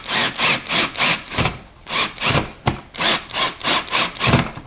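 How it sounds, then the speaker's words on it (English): A drill with a 3/8 bit turns slowly into a wall while fitting Jeep door hangers, making about a dozen evenly spaced, loud rasping bursts close by, with no talk. "now I'm going to take the drill, and I've adjusted it to now I have a 3/8 on here, and I'm going to go real slow"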